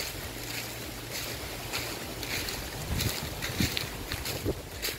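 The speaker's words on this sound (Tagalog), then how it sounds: "Wednesday pa lang pero malakas na hangin." Steady rushing typhoon wind buffets the microphone with a constant low roar, close and fairly loud, with occasional gusts.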